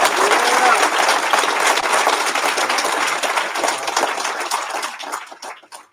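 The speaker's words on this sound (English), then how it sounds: "Can we give him another round of applause?" A graduation ceremony audience applauds in a dense burst of many hands clapping, holding steady before thinning into scattered claps and fading out.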